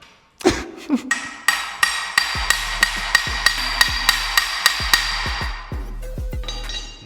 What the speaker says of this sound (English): take the size up above the lock nut size and hammer it over top